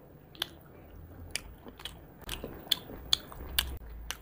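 Close-up chewing and biting of homemade spicy chicken chilli and Bihari-style chicken curry eaten with roti, with soft wet mastication and several sharper crunchy bites spread across a quiet room.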